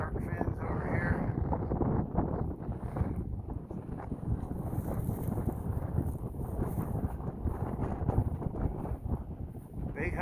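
Chilly wind gusts across a mountain trail on the Appalachian Trail, a steady rushing buffet against the microphone that persists throughout without pause.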